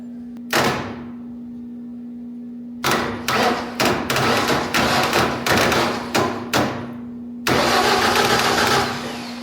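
A large wood chipper engine is cranked by powering its starter solenoid directly, giving a series of loud, close, repeated starter bursts of uneven length, ending in a sustained run, over a steady low hum.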